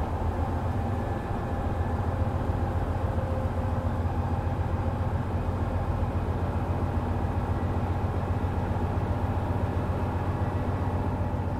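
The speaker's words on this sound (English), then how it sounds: "I wish the engine audio was a little bit louder." A train engine in the Train Life: A Railway Simulator game drones steadily at a low, even pitch, a faint continuous rumble with no talking over it.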